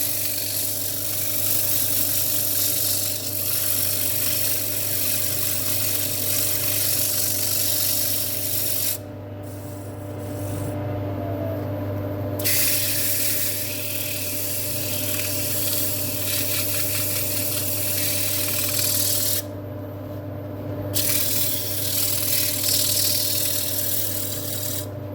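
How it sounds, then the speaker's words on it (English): Sanding oily wood spinning on a woodturning lathe in a workshop: a continuous close abrasive hiss over the lathe's steady motor hum, briefly dropping away twice as the sandpaper is lifted off. "So the wood's quite oily, still sanding quite well"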